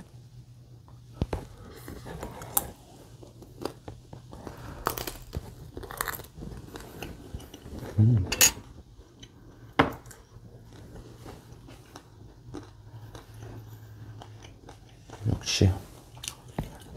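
Crispy-crusted pizza bread is bitten and chewed close to the mic in a bakery mukbang, with scattered crunchy bites and soft chewing between a few spoken words.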